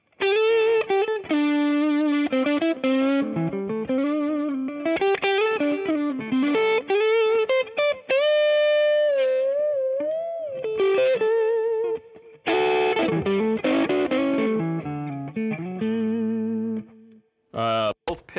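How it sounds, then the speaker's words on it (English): Gibson Custom Shop Johnny A. Signature electric guitar on the neck pickup, played as a lively run of melodic single-note lines and chords with sustained bends, close and loud through an amplifier with effects, no talking. "And let's listen to the neck pickup a little."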